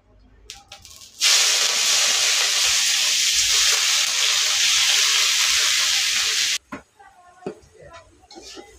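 Hilsa fish dropped into hot oil in a pan, setting off a loud, steady hissing sizzle that lasts several seconds and then cuts off, followed by softer clatter.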